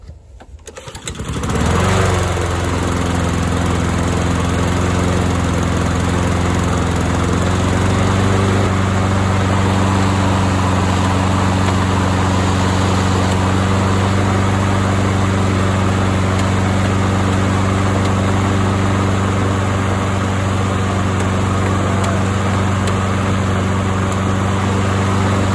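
A Lawnboy lawn mower engine that had sat unused for years starts up and runs with a loud, steady, buzzing drone that holds unchanged throughout, close by.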